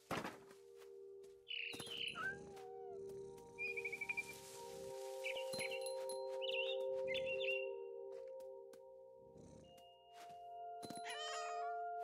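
A cat meows repeatedly in the video game What Remains of Edith Finch, clear mid-distance mews and a drawn-out caterwaul mixed with bird chirps and trills over a steady tonal background.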